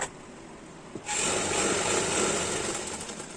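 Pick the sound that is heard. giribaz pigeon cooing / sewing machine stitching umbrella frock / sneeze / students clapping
sewing machine stitching umbrella frock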